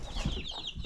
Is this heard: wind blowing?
no